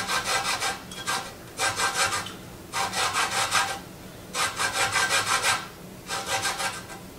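Citrus zested with a hand zester while making pork schnitzel: bursts of close, scratchy rasping strokes in quick repeated runs, separated by brief pauses, with no talking.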